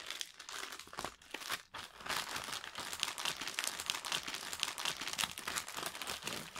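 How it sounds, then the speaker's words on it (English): A knife slices open thick plastic packaging during an unboxing, with continuous crinkling, tearing and crunching of the plastic close to the mic for several seconds, and no one talking. "Makapal kasi yung plastic kaya ganitong kutsilo ginagamit ko."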